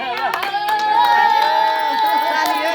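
Family members clapping hands together at home during a Mother's Day surprise, a close, busy patter of claps running under cheerful voices and a sustained sung or shouted tone throughout.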